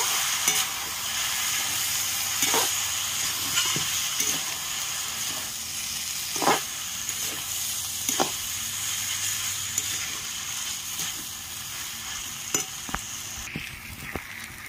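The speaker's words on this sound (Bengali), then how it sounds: "এবার আমি চাউমিনগুলো দিয়ে দিচ্ছি, ভালো করে মিশিয়ে নেব।" Egg chowmein noodles stir-fried with vegetables in a pan, a continuous close frying sizzle broken by repeated sharp scrapes and taps of the spatula against the pan, with no talking.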